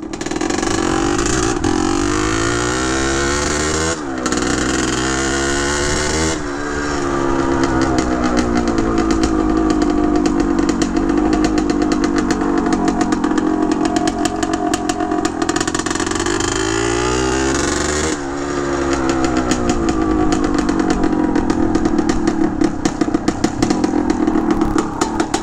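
A 1978 Harley-Davidson MX250 motorcycle engine runs loud and steady, revving up and down with a rough, throaty rumble and brief dips between throttle blips.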